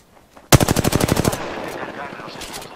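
A rapid automatic burst of about a dozen gunshots rings out in an Apex Legends Arenas match, loud and close, then rings away with a few fainter shots trailing behind.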